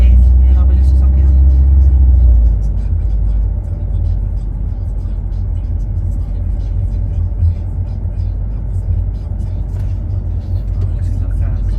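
A car's engine labours at low revs during a driving lesson, giving a loud, steady low drone that drops slightly after a few seconds, with the cabin hum continuing throughout.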